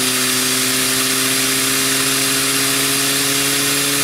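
A 3D printed Tesla turbine spins up on air with a dense, steady rushing hiss and a few sustained whining tones, holding at an even level throughout.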